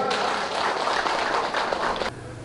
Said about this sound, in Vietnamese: Xin cho một tràng vỗ tay.